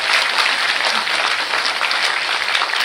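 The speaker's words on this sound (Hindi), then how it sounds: "जोर से मारिए ताली, हाथ ऊपर करके ताली मारिए" Hearty applause rolls through the audience at a state-level Teelu Rauteli women's award event, many hands clapping hard and continuously at close range throughout.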